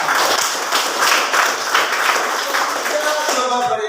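A classroom audience applauds group 3, steady broadband clapping throughout with voices mixed in underneath, fading toward the end.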